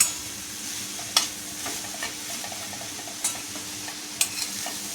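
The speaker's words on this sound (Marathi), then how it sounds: "आपण आता हे चांगलं परतून घ्यायचं आहे" Jaggery and coconut filling for modak sautéed in a pan, a steady soft sizzle broken by several sharp spatula scrapes against the pan, close and clear with no talk.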